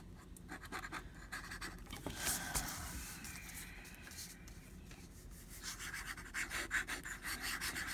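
A fountain pen drawing sharp, angular strokes on paper that makes the nib skip, giving close, steady scratchy rubbing in short bursts with no one talking.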